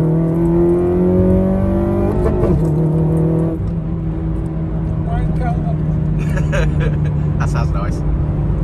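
A Honda Civic Type R FN2 engine accelerating from inside the car, the revs climbing, dropping briefly at a gear change, then pulling steadily again, with voices talking over the loud cabin drone.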